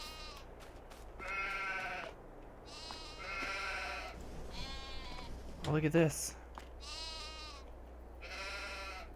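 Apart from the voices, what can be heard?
sheep bleating in Farming Simulator 22 video game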